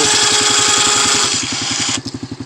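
A 4 wheeler quad fitted with a snow plow runs its engine in an open field, a steady close throbbing chug that drops to a slower, pulsing idle near the end.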